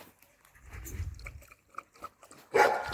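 A dog at home, one of the owner's dogs being fed boiled meat broth, gives a single loud, sharp bark-like vocal burst near the end, after quieter shuffling and low rumbling movement.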